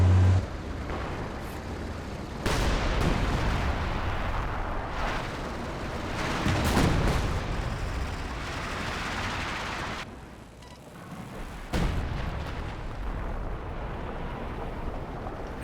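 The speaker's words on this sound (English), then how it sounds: "Oh, but that was a big Katyusha barrage." A Katyusha rocket barrage in the Company of Heroes 2 strategy game: loud rolling rumbles and blasts that swell and fade repeatedly over about fifteen seconds, with one short lull before the barrage resumes.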